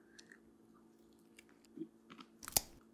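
Someone chews a crunchy sugar and cinnamon instant oat product, making faint, close, intermittent crunches that grow louder toward the end, with no talking.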